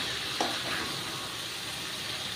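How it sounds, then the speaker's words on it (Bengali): Potatoes frying with spices in oil for chicken dum biryani give a steady, moderately quiet sizzle throughout, with one faint stir or scrape near the start and no voices. "একটু কষিয়ে নিচ্ছি, কারণ আলুর মধ্যে একটু মশলাটা ঢুকবে আর কি"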